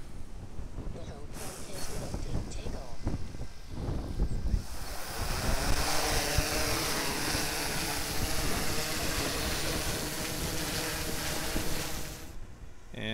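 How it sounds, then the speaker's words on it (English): DJI Mavic drone propellers spin up outdoors in a loud, steady broadband whir under heavy wind and surf-like noise, holding for about ten seconds before dropping off, with people talking nearby. "Okay, spin them up."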